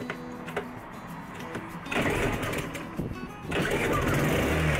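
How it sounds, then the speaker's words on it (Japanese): A portable generator that runs on both cassette gas canisters and gasoline, started after more than a year in storage, with repeated pull attempts followed by the engine catching and running steadily and loudly close by. "はいはい、4回目くらいでエンジンかかりましたね。"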